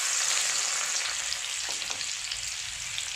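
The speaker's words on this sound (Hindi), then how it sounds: "अब तेल हमारा अच्छा गरम हो गया है। इसमें सबसे पहले डालेंगे लहसुन" Garlic sizzles loudly as it hits hot oil in a pan for bathua bhaji, producing a continuous bright hiss with a few light stirring clicks and no talking.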